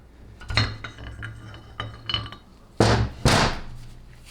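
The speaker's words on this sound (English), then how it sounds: "So what I'll do is I'll pound it through." A hammer pounds a bushing through a 4L80E transmission part: sharp metallic clanks, a few lighter taps followed by two louder, ringing blows near the end, close up with no talking.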